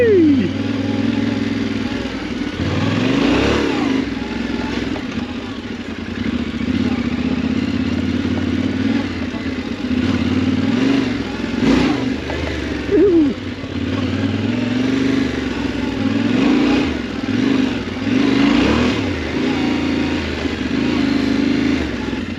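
A dirt bike rides off road through sand, its engine droning steadily close by with repeated revs and clattering over rough ground for the whole stretch, rider's voice briefly mixed in.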